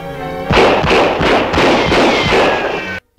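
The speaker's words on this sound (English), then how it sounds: "now it's only one crook firing into the box instead of two" Gunfire from a crook shooting into a box in an old Superman serial, a loud run of repeated thumping shots at a steady pace that stops abruptly.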